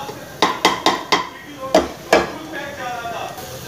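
Masala for baingan aloo sabzi being stirred and fried in a pan: a series of sharp metallic clinks and scrapes of a spoon against the pan, then a softer sizzle, with a quiet voice in the background.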